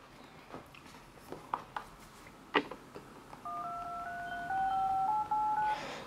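Dialing tones from a Pipo M7T 3G 8.9-inch Android phone tablet's hands-free speakerphone: a few short key beeps, then a steady electronic tone that steps up in pitch, clear and close with no talking.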